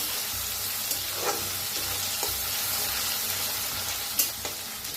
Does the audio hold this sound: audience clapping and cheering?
no